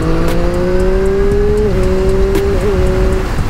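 A Triumph Street Triple RS motorcycle with its stock exhaust holds a loud, steady engine drone near at hand, its pitch shifting slightly a couple of times. No voices are heard.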